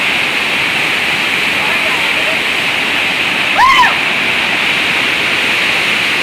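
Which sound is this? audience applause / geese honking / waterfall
waterfall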